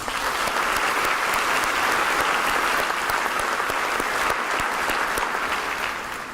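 A large audience at a school district's State of the District gathering claps steadily in dense, sustained applause for a high school honored as a Purple Star campus, holding strong for about six seconds before tapering slightly at the end.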